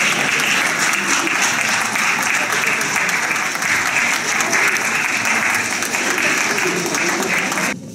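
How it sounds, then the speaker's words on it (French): Long, sustained applause from a crowd in the Béthune town hall welcoming Miss France 2015, dense clapping throughout, steady and loud until a slight fade at the end. "accueillie par de longs applaudissements"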